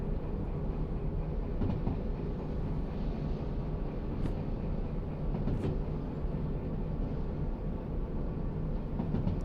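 Train running on rails in the video game Derail Valley, a steady rumbling roll with low wagon noise throughout and a couple of faint clicks, no talk.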